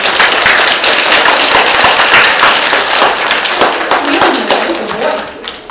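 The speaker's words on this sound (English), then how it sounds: "Give him a round of applause" A crowd gives loud, sustained applause for a poodle's trick at a live dog show, dense clapping that tapers slightly toward the end.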